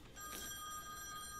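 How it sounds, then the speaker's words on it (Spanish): A telephone rings in the video game The Wolf Among Us, a faint electronic bell tone sustained over a quiet background. "Sonando el teléfono."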